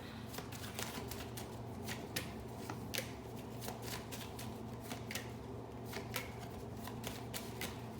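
Tarot cards shuffle close by in a steady run of quick riffling flicks, continuous and fairly quiet, with no talking.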